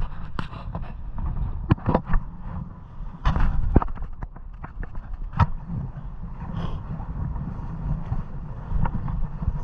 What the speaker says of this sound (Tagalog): Grabe, sobrang lakas ng hangin.